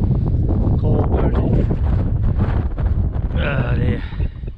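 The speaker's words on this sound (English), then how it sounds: "It's a bit windy now." Wind gusting steadily across an exposed hillside near the Cat and Fiddle, a loud broadband rumble buffeting the microphone throughout, with a person talking faintly over it.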